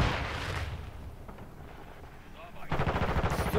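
Automatic gunfire in the video game Modern Warfare 2, with a rapid burst at the start, a quieter stretch of ambient game noise, then another loud, fast string of shots at the end.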